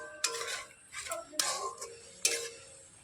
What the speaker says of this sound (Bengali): দুধের মধ্যে এখন আমি নারকেল কোড়াটাকে মিশিয়ে খুব সুন্দর করে একটু জাল করে নেব।